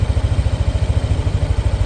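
A Yamaha Nmax 155 scooter engine idling steadily up close, a low, even putter with a rapid regular pulse.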